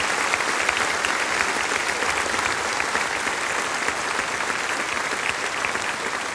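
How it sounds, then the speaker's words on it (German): A large audience at a Musikantenstadl folk-music TV show in Füssen claps loudly and steadily for several seconds, a dense, even roar of applause with no voices over it. "jetzt kommt der Riesenapplaus für Sie, Herr Landrat"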